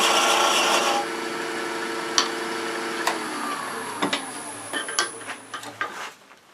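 Miniature wooden birdhouse being turned down on a lathe: a brief steady scraping hum that stops after about a second, followed by scattered clicks and light rubbing taps.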